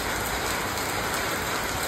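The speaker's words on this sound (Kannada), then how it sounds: "ಇವತ್ತು ಮಳೆ ಜಾಸ್ತಿ ಐತಿ" Heavy rain pours steadily on a coastal sea-fishing spot, a dense, continuous hiss of drops on surfaces, loud and close with no break throughout.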